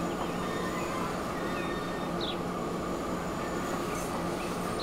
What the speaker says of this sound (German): jetzt müssen wir eh abbremsen. Wir fahren ja schon in den Bahnhof ein